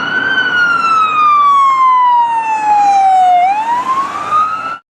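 A toy ambulance gives off a loud electronic siren, one long wailing tone sliding slowly downward, then sweeping back up before cutting off abruptly.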